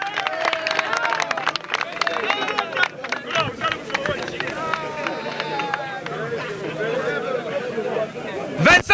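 Audience applause on a televised game show, scattered clapping mixed with crowd chatter and voices talking over it throughout.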